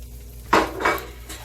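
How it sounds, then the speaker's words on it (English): Onions and peppers tumble into a hot pan while cooking a loaded chicken baked potato, giving two or three brief, close clattering knocks of food and utensil against the pan over a low background hum. "we're going to add in our onions and peppers"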